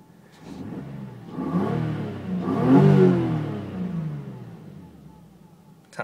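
A 1993 naturally aspirated Toyota Supra engine heard from inside the car, revving up in a steady swell to a peak and then falling back, a mid-pitched engine note with no talk over it.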